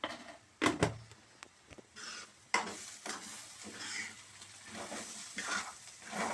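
Onion curry with chili powder being stirred in a pan, a spoon scraping and knocking against the metal with a few sharp clacks over a soft, intermittent sizzle, fairly quiet.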